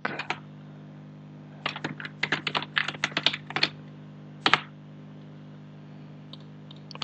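Bursts of typing on a computer keyboard, close-up clicks in short clusters separated by quiet gaps, with a few isolated keystrokes near the end.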